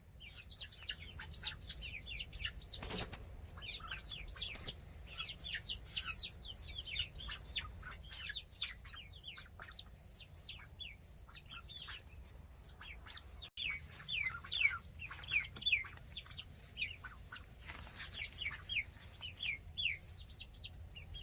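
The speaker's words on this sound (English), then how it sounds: "We already got one egg. And that's from our older chicken, Goldie, who's the boss of the coop." Backyard chickens in a coop cluck and call almost without pause, a busy layered chatter of short repeated notes at moderate volume over a low outdoor hum, with no talking.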